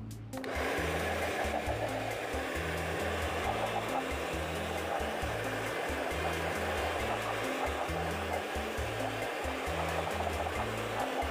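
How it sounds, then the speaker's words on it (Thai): An air blower runs continuously, a loud, steady whooshing roar close by as it blows dust off a motorcycle headlight lens, starting abruptly and holding constant to the end. "เป่าไล่ฝุ่นอย่างเดียวครับผมเอาไปเป่าห่างๆกันหน่อยนะครับ"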